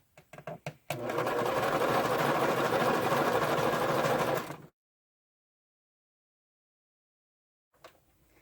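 A sewing machine stitches through fabric lining under gentle pedal pressure: a few soft knocks, then about four seconds of steady, even motor whirring that stops abruptly into silence, followed by a faint rustle.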